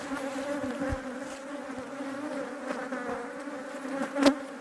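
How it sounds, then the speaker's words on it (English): Many bees hum in a dense, steady drone inside a crowded hive colony during box splitting, close and continuous, with a louder buzz flaring near the end as a bee passes. "this is one of these colonies now where there are a lot of bees in there"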